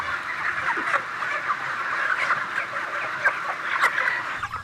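Chickens clucking in a crowded broiler shed, a dense continuous chorus of overlapping clucks and squawks with a few sharper calls standing out, steady and fairly loud.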